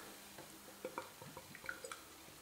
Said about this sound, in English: Pour it in.